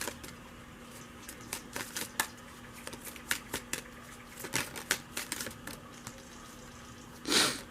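Romance angel oracle cards being shuffled in a quiet room, a run of soft, quick riffling flutters and taps spread across the span, ending in one louder brushing burst near the close.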